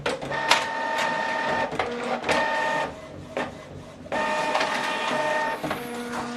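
A printer runs off a single-page document sent from a laptop, whirring and clattering in uneven mechanical bursts with feed rattles and brief pauses, loud and near, no talk.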